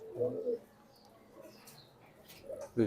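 Racing pigeons in a loft coo in a few low, throaty bursts at the start and the end, with quieter cooing between and people speaking faintly nearby.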